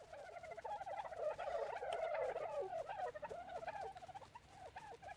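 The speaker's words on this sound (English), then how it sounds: "now we got a bunch of walking ducks and a bunch of chickens" Ducks and chickens wander in Ark Survival Evolved, producing continuous, fairly loud warbling gobble-like bird calls that rise and fall across the whole stretch, with no talking.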